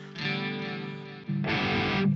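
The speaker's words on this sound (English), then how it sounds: "some reverb, some delay" Two sustained guitar notes ring out through heavy reverb and delay from a Donner Hush-I guitar, each one smeared and echoing with a washy, distorted tail, no voices present.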